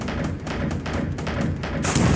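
A torpedo striking a ship in the naval wargame War in the Pacific: Admiral's Edition, heard as a dense run of taps and dull thuds over a constant watery rumble, with a brighter splash-like burst at the end.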